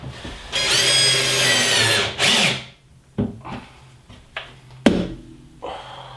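A power drill drives drywall fixings into a bathroom wall for reclaimed pine shelving, with one long close whirring run, a short second burst, then scattered knocks and brief handling sounds.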